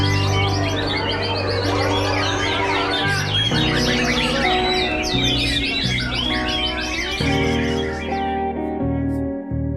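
A white-rumped shama songbird sings loudly and continuously in rapid, varied chirps and trills. A steady low hum runs underneath.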